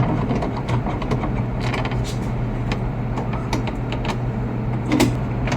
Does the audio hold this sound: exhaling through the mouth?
no